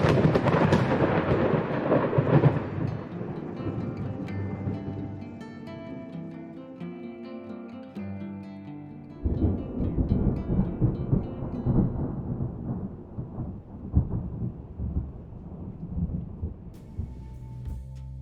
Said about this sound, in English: an array of the 4 thunder sounds that I had gotten from the internet